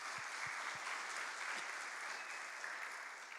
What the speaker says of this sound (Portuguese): Aplauda a Deus por isso.